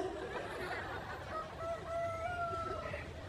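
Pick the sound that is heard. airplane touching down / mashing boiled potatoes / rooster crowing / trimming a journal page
rooster crowing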